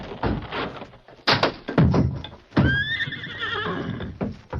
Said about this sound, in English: Try again, Silver. Your hoofs can knock that door down.